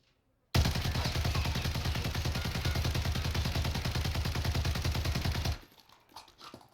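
Light machine gun fired in the Warzone video game during a recoil test, one continuous burst of rapid automatic shots lasting about five seconds, loud and close, with no talk over it.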